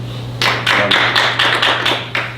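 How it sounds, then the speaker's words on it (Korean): A small group claps in scattered, uneven bursts, several sharp hand claps spread over a couple of seconds. "동의하시면 박수 한번 보내주셔야죠"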